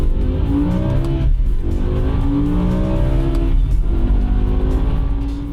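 A BMW M5 E60 with its V10 engine revs hard past 8000 rpm in two rising sweeps. It is loud and close, with a steady rough roar underneath and no voices.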